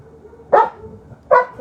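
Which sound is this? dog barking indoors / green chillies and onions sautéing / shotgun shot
dog barking indoors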